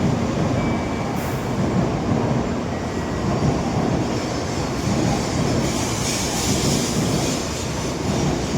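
A Nozomi Shinkansen bullet train pulls in at a Tokyo station platform, its loud, steady rolling rumble and airy wheel hiss filling the whole stretch with no voices over it.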